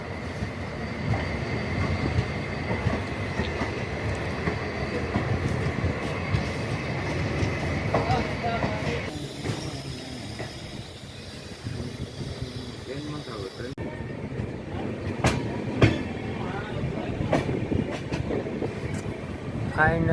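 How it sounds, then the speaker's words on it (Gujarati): A passenger train from Rajkot bound for Veraval pulls into a station, a steady rumble of rail cars and wheel clatter with brief squeals, loud and close for the whole stretch, with crowd voices faintly mixed in. "જુઓ રાજકોટથી ટ્રેન આવી છે અને આ વેરાવળ જશે"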